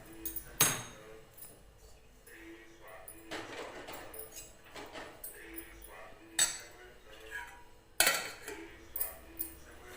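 A kadhai (wok) is set onto a home stove, with sharp metallic knocks and scattered utensil clinks in a quiet kitchen, partly under soft talking.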